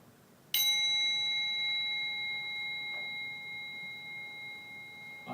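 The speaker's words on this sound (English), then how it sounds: "I got to ring the gong." A gong rung once with a sharp strike, then a clear sustained ring that slowly fades and hangs on for several seconds in a quiet room.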